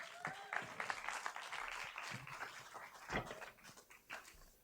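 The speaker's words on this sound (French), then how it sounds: "Vous pouvez l'applaudir." Applause from a theatre audience welcoming a performer onto the stage, a dense patter of many hands clapping at moderate distance, sustained throughout with a few louder bursts.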